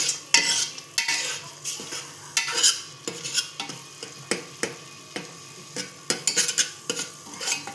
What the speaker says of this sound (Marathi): चांगला परतून घेऊया आपण